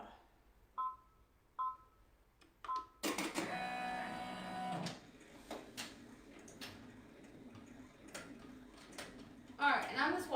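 A sewing machine makes a close burst of rapid stitching lasting about two seconds, set between soft clicks and handling sounds, with quiet talk around it.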